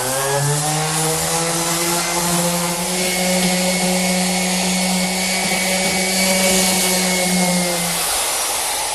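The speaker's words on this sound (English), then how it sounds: "the next step of the process is done with the random orbit sander" A random orbit sander smooths the wooden edge of a sheep shearing coffee table, giving a steady, loud motor drone with a constant whirring pitch that runs unbroken for about eight seconds before cutting off.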